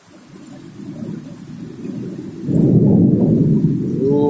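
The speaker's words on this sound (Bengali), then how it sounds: "এই 2 দিন যাবৎ বৃষ্টি হইতেছে" Monsoon thunderstorm with rain: soft rainfall and low rumbling build, then a loud roll of thunder breaks in halfway and keeps rumbling under the steady rain.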